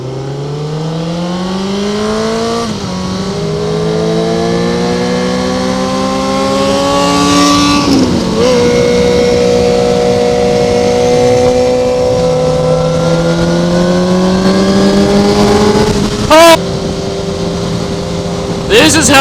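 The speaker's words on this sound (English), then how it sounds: "This exhaust sounds good." A 2009 Honda CBR1000RR sport motorcycle exhaust snarls loudly, rising through gears with pitch climbing then dropping at each shift, close by, with brief wind bumps.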